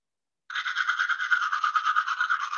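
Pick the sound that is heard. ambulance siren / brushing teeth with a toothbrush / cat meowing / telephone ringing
brushing teeth with a toothbrush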